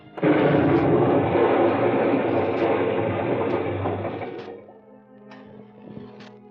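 A grenade explosion sound effect in an old-time radio detective drama erupts as a heavy, loud rumbling blast that roars for several seconds and then fades into a low lingering hum with faint clicks.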